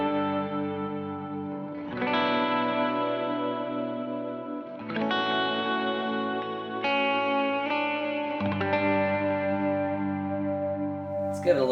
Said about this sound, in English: This is kind of a univibe, real subtle type of sound